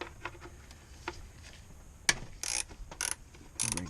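A ratchet works on a 12 mm bolt on a 2006 Toyota Tacoma engine, starting with a few soft clicks and then loud, close, rasping ratchet bursts as the bolt breaks loose.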